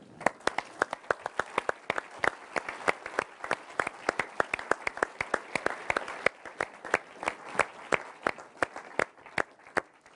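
A small audience at a business school event claps steadily for an award winner, with crisp individual hand claps in a fairly regular, sparse rhythm, close and clear, sustained throughout with no talking.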